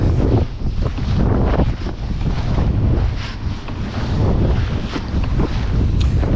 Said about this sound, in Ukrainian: Бо да, таке роздуло, що я й не передам.